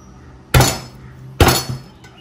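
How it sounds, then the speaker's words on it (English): A knife pounds boiled potatoes for Goan potato bhaji, giving two sharp, close thuds about a second apart. A faint third knock follows, with no talking. "then you need to take a knife and pound them like this"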